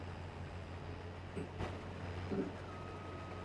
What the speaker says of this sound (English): Watch me get taken out by the train.